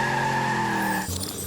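A car's tires skid in a film sound effect, a loud, sustained tonal squeal that cuts off sharply near the end into a lower, rougher tone.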